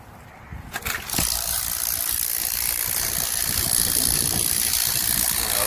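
A vacuum pump hooked to an HVAC manifold on a Goodman package unit starts after a second of light clicking, then runs as a loud, steady, close mechanical drone with no one talking.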